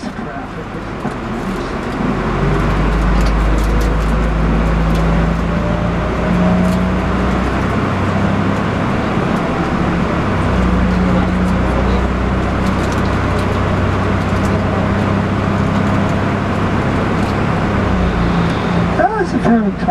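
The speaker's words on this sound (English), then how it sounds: "Sorry about this traffic." Road traffic rumbles steadily around a car driving through San Francisco, a loud, continuous roar of engines and tyres with a voice speaking over it.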